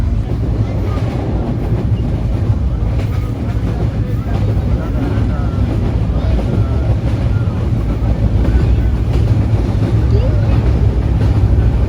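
A moving passenger train gives a loud, continuous low rumble and rushing noise throughout, steady from start to end, heard from on board.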